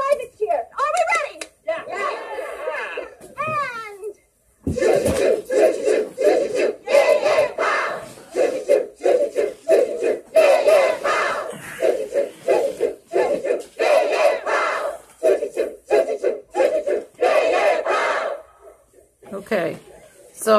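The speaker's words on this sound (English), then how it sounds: "so right here we see a lot of repetition going on, some chanting going on, a lot of high adrenaline type of activity" A cult group in a movie scene chants in rhythmic, repeated bursts after a toast is proposed, a crowd shouting together in loud waves, with cheering and some clapping between the chants.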